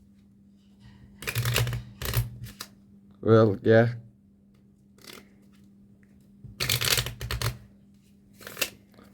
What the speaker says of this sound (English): And we should do some fake shuffles.